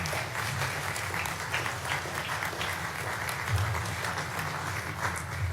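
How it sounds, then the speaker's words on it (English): Applause at the Population Award 2026 ceremony as laureates come forward for a photo, a steady, even wash of clapping from a seated audience without talk. "for a photo and a round of applause"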